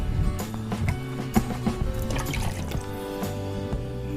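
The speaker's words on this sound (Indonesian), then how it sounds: "Ini ada tanaman tanduk rusa, kita siram juga" Liquid trichoderma solution is poured over a staghorn fern, close-up dripping and splashing with irregular patters and trickles, fairly loud and without talk.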